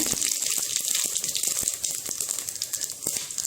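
Whole spices, including cashews, cinnamon, cardamom and cumin, crackling in hot oil for chicken tahari: a constant close hiss broken by scattered sharp pops.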